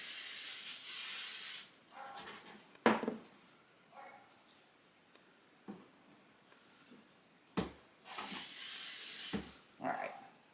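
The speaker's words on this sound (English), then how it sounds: "So I'm going to spray it now with 505" Hissing bursts of 505 temporary spray adhesive applied to a sweatshirt for hooped embroidery, several short sprays separated by quiet pauses and soft handling sounds, close and fairly loud.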